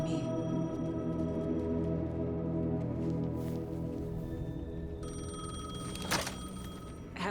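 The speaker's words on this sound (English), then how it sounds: "The payphone was ringing." A payphone rings in the Alan Wake 2 video game, a faint electronic bell repeating over a low, droning ambient soundscape, with no talking.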